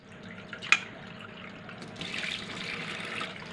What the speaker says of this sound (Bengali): আমার মেয়ে দেখো এটাকে সাবান দিয়ে ধুচ্ছে